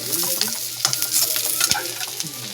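Curry leaves and coriander sizzle in a hot pan of oil, a close, steady frying crackle broken by stirring scrapes and small pops.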